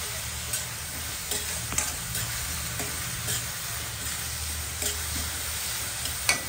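Onions frying in oil with a little salt, a constant close sizzle with periodic spatula scrapes and taps as they are stirred.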